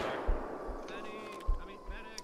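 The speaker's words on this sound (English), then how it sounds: "We're taking fire from somewhere" In the World War II video game Operation Gunnerside, a few scattered gunshots thump at a moderate distance amid faint background game ambience.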